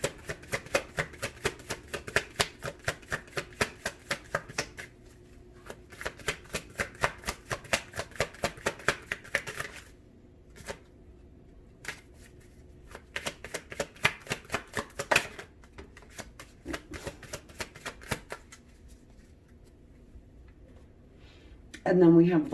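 Tarot cards are shuffled in rapid riffling bursts of crisp papery flicks, several runs separated by short pauses, close and fairly soft.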